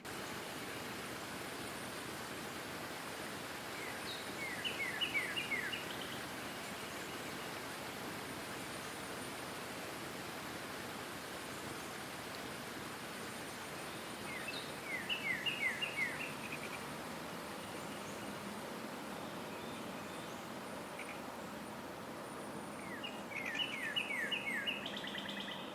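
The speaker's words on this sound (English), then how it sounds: "I've added a waterfall, and I've also added some bird sounds" Steady broadband rush of a waterfall fills the background throughout, with three short bursts of bird chirping at intervals, distant and moderate, over a faint insect-like hiss.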